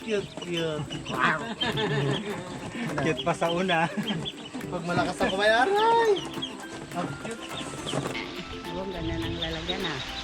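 Young ducklings and chicks on a farm give rapid high chirps and peeps, close and repeated, mixed with people talking around them.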